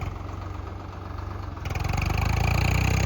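A Swaraj tractor stuck in a muddy field idles steadily, then its engine note rises and grows louder as it revs partway through, close and continuous.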